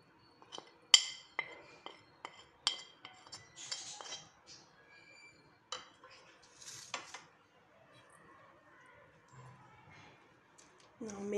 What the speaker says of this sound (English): Now I'm going to mix all this together.